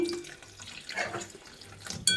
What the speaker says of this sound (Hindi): इसमें डालूँगी मैं ये पानी